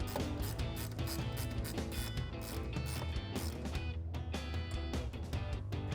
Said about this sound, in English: we'll grab our 10mm ratcheting wrench to tighten this down.